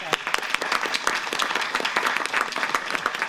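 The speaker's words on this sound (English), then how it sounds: "So I think you deserve another round of applause." Applause at a school board meeting, a dense, steady clatter of many hands clapping together, moderately loud and continuous for a few seconds.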